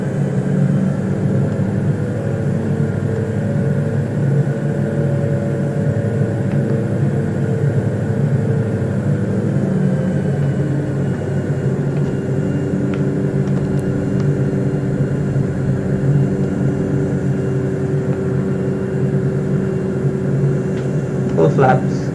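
Steady droning propeller-aircraft engine hum in a flight simulator approaching to land near Venice's Marco Polo Airport, continuous and even throughout with faint background detail.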